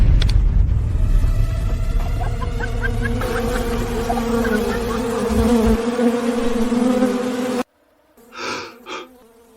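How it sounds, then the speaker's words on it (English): Wasps buzzing around a hive area in a pine ridge mountain forest, a steady loud droning hum from many insects close by, ending abruptly before a few soft breathy sounds. "The wasps really are here."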